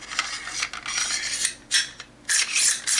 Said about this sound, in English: you take a bolt carrier group, and you insert the bolt carrier group